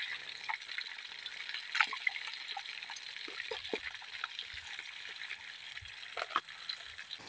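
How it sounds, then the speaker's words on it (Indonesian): Canned fish frying in hot oil in a pan, a steady close sizzle with scattered pops and crackles running throughout, no talk. "Ini ikan kalengnya kita goreng dulu teman-teman ya."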